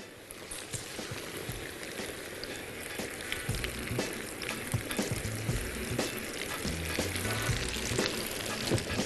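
Cauliflower frying in hot oil, a dense, continuous crackling sizzle with occasional soft knocks from stirring or turning, steady and close with no voices.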